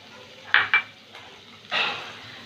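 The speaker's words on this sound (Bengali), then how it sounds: "চিকেনগুলো একটু ভেজে নেব। সাইড দিয়ে একটু রসুন কুচি" Chicken pieces and chopped garlic in a pan for chicken soup, heard as a few sharp spoon-against-pan clinks and a short burst of frying sizzle over quiet background, close by.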